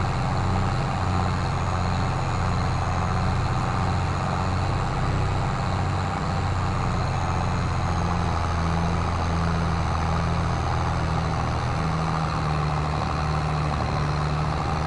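A tractor engine drones steadily in Farming Simulator 22, a constant low mechanical hum with a faint rhythmic pulse, running alone throughout.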